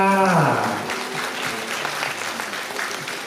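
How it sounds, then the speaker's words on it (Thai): A crowd at a Thai fan event breaks into loud, sustained applause right after a voice, the clapping filling the room evenly until the end. "และขอเสียงปรบมือกับน้องบาสด้วยค่ะ"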